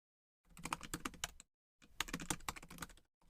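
Keys clatter on a computer keyboard in two quick bursts of rapid typing separated by a short pause, close and fairly quiet, with silence before and after.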